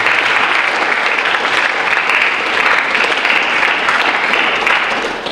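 An audience at an NHS induction ceremony applauds in steady, dense clapping that holds loud and even, then eases slightly at the end.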